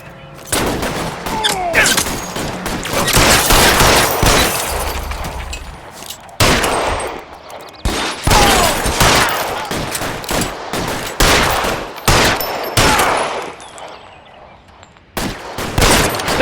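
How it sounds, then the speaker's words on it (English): Gunfire in the video game L.A. Noire: loud, dense volleys of rapid shots and bursts, separated by brief pauses and continuing throughout. "Fire a warning round."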